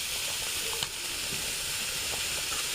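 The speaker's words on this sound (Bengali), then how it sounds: "কড়াইয়ের মধ্যে আমরা কিছুটা পেঁয়াজ কুচি দেবো" Steady broadband sizzle of chopped onion frying in a kadai, continuous hiss with a small clink near the start, no voices.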